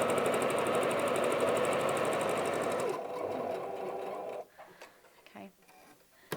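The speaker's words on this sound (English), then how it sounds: "So I'm just going to put it straight under the machine. Again, this is just a straight stitch" A sewing machine running a straight stitch on a beginner's wallet project, steady fast whirring and rapid needle ticking for about three seconds, then quieter handling and fabric movement close by.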